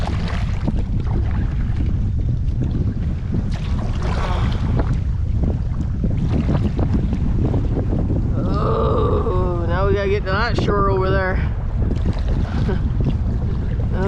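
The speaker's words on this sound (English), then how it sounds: "here's the wind gust" A wind gust buffets the microphone on open water during a solo canoe trip on the Lady Evelyn River. The roar is loud and continuous throughout, with a voice briefly heard partway through.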